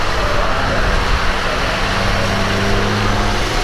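A truck rolls past on a road in Finland, a loud continuous roar of engine and tire noise holding steady for a few seconds amid broadband traffic rumble.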